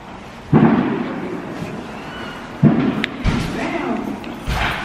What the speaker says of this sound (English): Them Hispanics got the good fireworks.